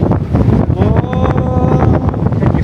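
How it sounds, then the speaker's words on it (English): Strong wind buffets the microphone on West Cliff in Ramsgate, a steady loud rumbling roar with faint tonal whistles, alone without talk. "Can you feel that wind now?"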